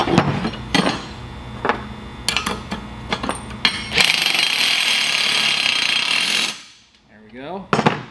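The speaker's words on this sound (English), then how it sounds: "Just tighten them down." Bolts are driven tight on a Gravely mower chute blocker with a power tool. Loud, close hammering bursts build into a sustained whir, then cut off, with a brief final burst.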